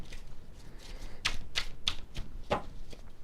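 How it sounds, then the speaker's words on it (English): Tarot cards being shuffled: a run of crisp riffling bursts, several sharp snaps standing out among softer papery rustles, close and moderately loud. "Let me shuffle this up for you."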